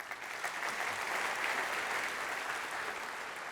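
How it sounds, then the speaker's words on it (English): An audience at a SIGGRAPH 2019 user group presentation applauding, a dense steady patter of many hands clapping that swells and then slowly tapers. "please give another round of applause for all of the presenters we've had to this point"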